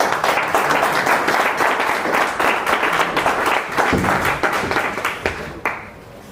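Audience applause at a student review event, vigorous rhythmic clapping from a room of people, loud and close, sustained for several seconds before tapering off abruptly near the end.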